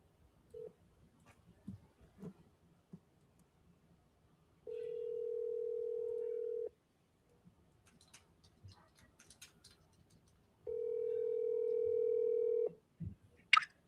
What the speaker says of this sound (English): Also, RJ, that was a double dial on my first one.